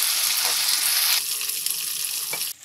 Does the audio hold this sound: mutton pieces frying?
yes